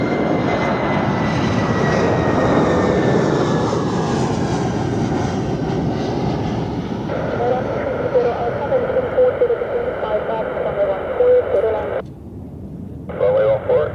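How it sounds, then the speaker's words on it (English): Lufthansa Airbus A319 jet at Zurich Airport, a loud sustained roar that slowly fades and changes pitch, with a radio-like voice and talk over it toward the end. "next is Lufthansa with an A319 from Frankfurt"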